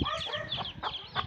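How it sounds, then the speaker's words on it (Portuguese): A hen clucks in a rapid, agitated series while guarding her chicks in a farmyard where a pig is nearby, the calls loud and close for a little over a second. "Galinha braba essa aí com os pintos."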